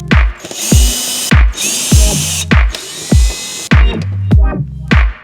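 A power drill runs in repeated short bursts, each start punctuated by a ratcheting click, while backing four Phillips head screws out of a Maserati Ghibli front bumper's wheel well skirt; loud and close, with no talking.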